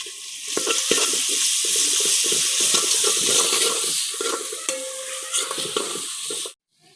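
Onions with garlic ginger paste and whole spices, fried for vegetable pulao, sizzle steadily in a pot while a spoon scrapes and stirs in uneven strokes. The sound cuts off abruptly near the end.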